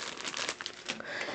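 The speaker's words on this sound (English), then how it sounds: "Empty plastic bag." An empty plastic bag from an RC car kit is crinkled and handled close by in a steady, continuous rustle, with no voices.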